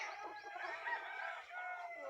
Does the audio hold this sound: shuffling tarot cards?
no